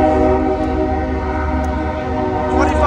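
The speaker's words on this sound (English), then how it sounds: "we got a Unipacific stacker train going northbound" A Union Pacific intermodal stack train rolls past the 66th Ave crossing. The rumble is loud, close and continuous, with sustained horn-like tones over it and no speech.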